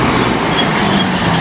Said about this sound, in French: camion de livraison qui vient de passer